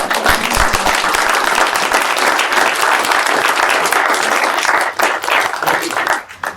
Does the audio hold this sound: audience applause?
yes